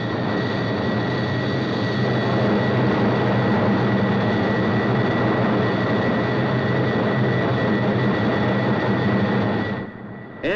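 An aircraft flying past its critical Mach number and buffeting violently: a loud, steady, dense roar that rumbles unbroken for about ten seconds before dropping away abruptly at the end.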